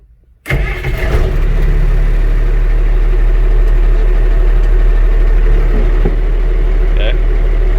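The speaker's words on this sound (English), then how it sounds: "Start the truck again." An M35 military truck engine cranks and catches abruptly, then settles into a loud, steady low-pitched idle close by, with a faint brief clunk near the end.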